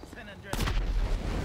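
Gas cylinder blowing up in GTA 5, a sudden loud burst with a booming low rumble that carries on for about a second after a quieter stretch.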